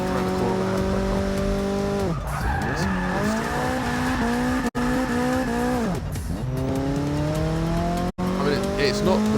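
Race car in Forza 6 cornering with the handbrake, engine droning with pitch dips as revs drop, then screeching tire squeal through the turn, loud and continuous over about nine seconds.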